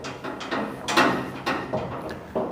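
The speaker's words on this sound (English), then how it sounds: "Can I close the door?" The door of a 1968 Dodge Charger under restoration is closed to check the panel gap. Several muffled metallic clunks and knocks come close by over a couple of seconds, with the firmest thud near the middle.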